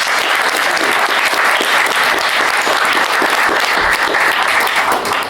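Loud, sustained applause from a convention audience at a comics panel, steady dense clapping filling the whole stretch without a break.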